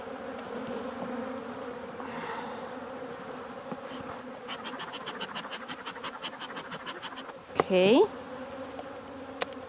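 Steady low buzzing of many honey bees around a hive during hive splitting, with a brief rustle of frame handling and a short spoken word near the end.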